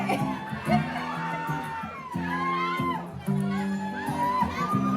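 Studio crowd shrieking and cheering at a surprise on a Filipino TV show, a steady wash of excited squeals and shouts with voices mixed in throughout.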